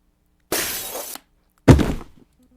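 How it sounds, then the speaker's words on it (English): Glass shatters twice in a quiet room: a long crashing burst followed after a short gap by a second, heavier impact with ringing debris, with no voices. "The sound of shattering glass snaps you out of your hunger-fueled haze."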